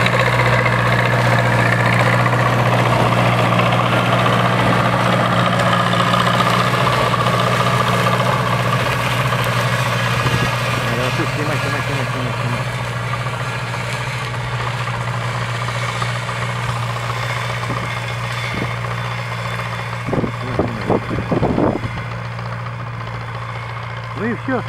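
A DOBERKMET DPS-175 mulching mower runs with a steady, loud engine drone, close by and continuous throughout, with people talking over it.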